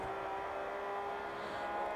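A car engine in the racing video game Forza Horizon 4 revs and accelerates steadily, a continuous loud drone with shifting pitch that fills the whole moment, with no talk.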